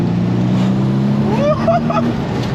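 A Nissan R32 turbo producing 640 BHP hums steadily from inside the car under light throttle, loud and continuous, with a brief rising whistle part way through.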